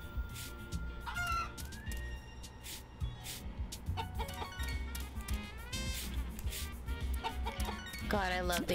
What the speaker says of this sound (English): God, I love these chickens.